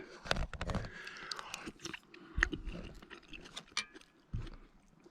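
Chewing a bite of oyster from an oyster stew: several close, soft, wet bites and crunches come in uneven bursts, separated by short quiet gaps.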